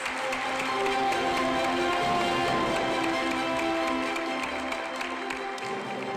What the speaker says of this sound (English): how about one more round of applause to all of our pre-kindergarten through 5th grade honorees